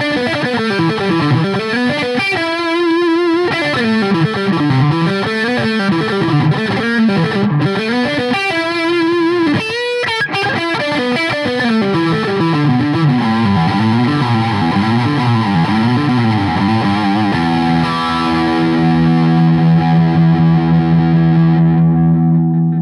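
A Fender John 5 Ghost Telecaster electric guitar plays on its middle pickup position, heavily distorted with a chorus-like swirl, loud sustained chords and riffs ending in a ringing held chord.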